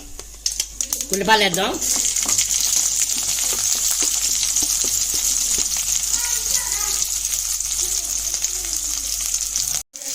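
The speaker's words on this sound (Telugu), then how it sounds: "చిట్టపట అన్నటప్పుడు ఉల్లిపాయలు వేద్దాం." Sliced onions fry in hot oil in a pan, giving a close, steady sizzle and crackle that lasts throughout, with a brief voice and some stirring near the start.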